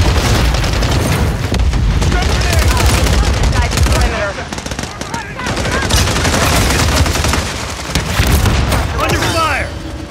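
An SMG fires in sustained bursts during a hectic Call of Duty: Modern Warfare 3 match, mixed with booming explosions and other loud battlefield gunfire. It plays continuously and heavily, with short in-game voice callouts over the top.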